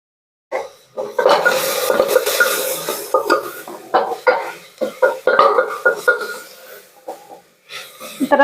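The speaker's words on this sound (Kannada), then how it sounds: "ನಾನು ಟೊಮೆಟೊ ಹಣ್ಣು ಬೇಕು ಅಂತಂದು ಹಾಕ್ಕೊಂಡಿದ್ವಿ ಚೆನ್ನಾಗಿ ಫ್ರೈ ಆಗ್ತಾ ಇದೇನು" Tomatoes frying in a pan for chitranna, stirred with a utensil in irregular scraping bursts that come close and fairly loud, with stretches of sizzle between strokes.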